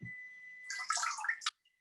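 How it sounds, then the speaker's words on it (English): A wet sponge squeezed out over a bowl during hand papermaking, giving a brief splashy trickle of water back into the bowl, close and fairly quiet, with no talking. "Sponger will sponge about 3 times, squeezing out each time in between the water back into the bowl."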